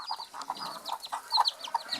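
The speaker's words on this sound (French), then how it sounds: "Une poule naine qui est sortie avec 5 petits poussins." Bantam hen clucking softly in repeated short bursts with her five chicks, high chick peeps scattered between the clucks, close and fairly clear.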